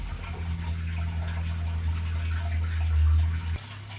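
Water pours steadily into a fish tank, a constant splashing gush with a low hollow rumble that swells slightly before cutting off abruptly near the end, close and alone.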